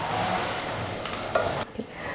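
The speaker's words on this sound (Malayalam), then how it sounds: "ഇതെല്ലാം കൂടെ നന്നായിട്ട് മിക്സ് ചെയ്ത് കൊടുക്കുക." Carrot, beans and green peas stirred in a hot pan for a samosa filling, giving a steady close sizzle with soft scraping of the spoon through the vegetables and no talking.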